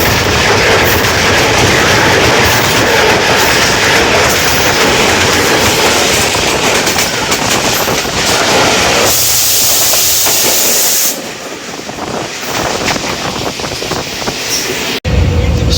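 The Islamabad Express runs at night toward Lahore, heard from inside as a loud, continuous rumble and hiss of wheels and carriage with clattering rail noise. It thins briefly near the end before surging back.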